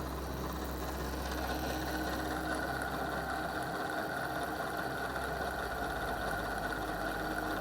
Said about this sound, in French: c'est un moteur qui fonctionne